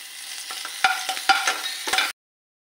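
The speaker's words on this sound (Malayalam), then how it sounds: "1/2 സ്പൂൺ എള്ളിട്ട് അതും കൂടി വറുത്തെടുക്കാം കേട്ടോ." Sesame seeds frying in ghee for jackfruit-seed payasam, a crackly sizzle with several sharp pops and stirring scrapes, close and moderately loud, cutting off abruptly.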